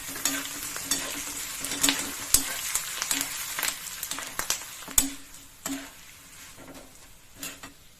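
Grated coconut and green chillies fry in hot oil for poha chivda, a continuous crackling sizzle broken by sharp ticks and clicks of stirring against the pan.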